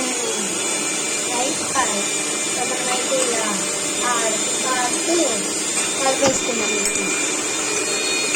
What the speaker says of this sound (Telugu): మిక్సీ సౌండ్, అది వీటిల్ సౌండ్.